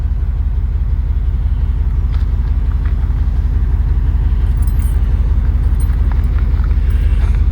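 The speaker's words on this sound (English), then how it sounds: "I'm gonna shut this engine off because no telling how long it's going to be idling for." An engine idles with a loud, steady, throbbing rumble close by for the whole stretch, with faint clinks and rattles on top and no speech.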